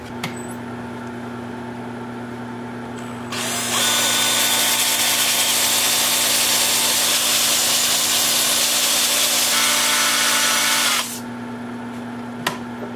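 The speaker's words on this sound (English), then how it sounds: "So 80 through 400 with a 2-inch sanding disc." Power sanding of a rough spalted alder bowl with a 2-inch sanding disc, a steady loud broadband whir that starts abruptly, holds for about seven seconds and cuts off, with a quieter motor hum before and after.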